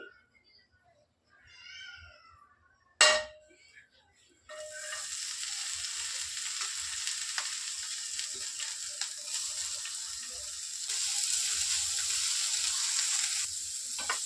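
Chopped fenugreek leaves fry in oil with a loud, continuous sizzle that begins abruptly after a few quiet seconds of faint sounds and a sharp knock, then keeps steady to the end.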